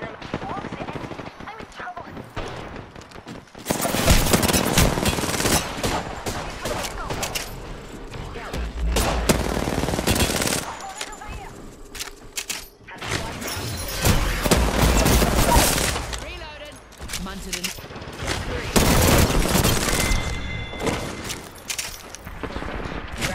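An enemy squad's gunfire in Apex Legends rattles in several loud, dense bursts of automatic fire with booming impacts, separated by brief lulls across the span.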